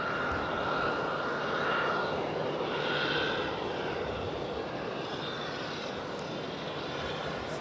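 A Boeing 737-800 jet roars past at Raleigh-Durham International Airport, a loud, steady broadband engine rush with shifting whine that holds throughout, with no talking.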